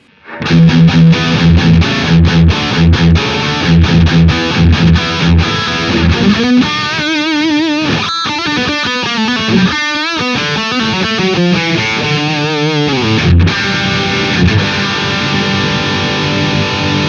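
A distorted electric guitar, EQ cut around 80 Hz, plays rhythmic chugging riffs and chords with a thinner, tighter low end, loud and continuous.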